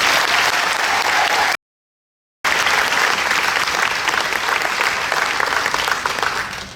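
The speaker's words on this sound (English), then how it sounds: "please give her another round of applause" Sustained, dense applause from a large audience at a 2024 high school senior graduation ceremony, loud and steady with a brief dropout partway, honoring a graduating student bound for Princeton.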